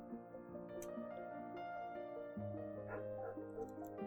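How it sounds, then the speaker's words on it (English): A dog barks and yips a few times in the background over a steady droning, tonal hum. "Oh, my dog is barking."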